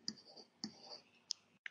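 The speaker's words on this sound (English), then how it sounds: "Typing this into my calculator gives me the answer" Calculator keys click as a sum is typed in, four crisp, separate clicks at an uneven pace, close and quiet with no talking over them.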